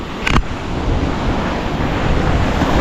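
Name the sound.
sea waves on shore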